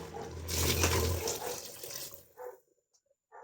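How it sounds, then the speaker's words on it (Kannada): Water from a glass pours into a cooking pot holding foxtail millet, a loud splashing gush lasting about two seconds before stopping, followed by a few faint drips and knocks in quiet. "ಇವಾಗ 10 ಗ್ಲಾಸ್ ನೀರು"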